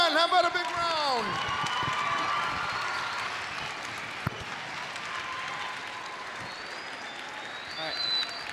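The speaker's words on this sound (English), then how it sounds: "if I could just get one last round of applause for the three gentlemen" Audience applause at a youth conference, a moderately distant room of steady clapping lasting several seconds, with a brief whistle-like tone early on and faint background chatter.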